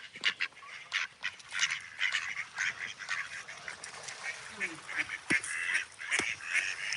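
A group of about ten bachelor male ducks calls repeatedly nearby, with rapid overlapping quacks and honks in irregular bursts, no talking.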